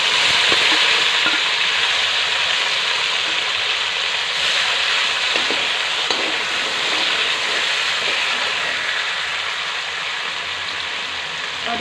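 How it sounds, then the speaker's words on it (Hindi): Chopped tomatoes fry in a pan for a bathua and brinjal sabzi cooked without onion or garlic. A loud, continuous sizzle runs throughout, broken by occasional soft stirring scrapes, with no voices. "अब इसमें हम कटे हुए टमाटर डाल देंगे।"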